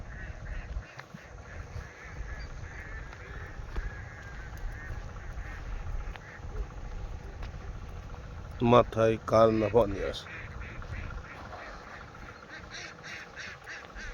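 Ducks in a rice paddy give a short burst of loud, close quacking midway, over a steady outdoor background while a person talks through much of the scene.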